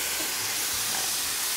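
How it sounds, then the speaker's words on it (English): Curry conch sizzling hard in a hot pot, a dense steady hiss close up and loud throughout, with no voices over it. "Very important to get that sizzle"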